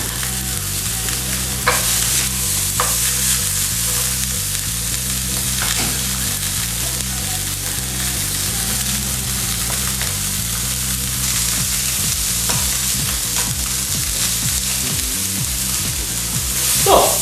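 Pork filet searing in a very hot pan, a loud steady sizzle and spatter running throughout with a few sharp clicks of the meat being turned, a low hum underneath.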